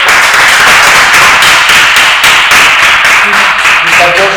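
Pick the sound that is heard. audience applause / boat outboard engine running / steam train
audience applause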